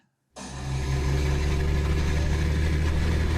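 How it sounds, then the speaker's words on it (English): A giant Mad Max-style truck's engine fires up abruptly out of silence and settles into a loud, steady, deep rumble that continues unbroken. "This guy made a Mad Max giant truck."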